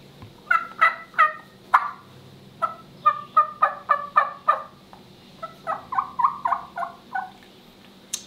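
A wild turkey gobbles repeatedly in quick rattling bursts, loud and close, with short pauses between the series of calls.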